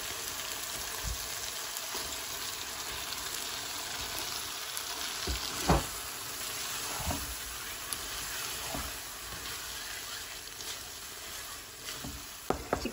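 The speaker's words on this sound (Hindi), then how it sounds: "चिकन थोड़ा फ्राई हो जाता है ना" Chicken pieces fry in a pan for black pepper chicken karahi, making a continuous, even sizzle with occasional soft stirring scrapes and a few louder knocks near the end.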